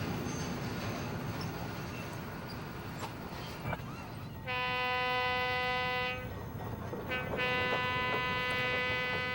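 A small tourist train at Port Stanley, Ontario, near where Kettle Creek meets Lake Erie, sounds two long steady horn or whistle blasts over a rumbling outdoor background, the second starting after a short gap.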